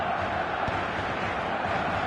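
A video game sports match crowd calls out and roars in a steady, dense wash of voices that stays loud and even throughout, with no clear single voice standing out.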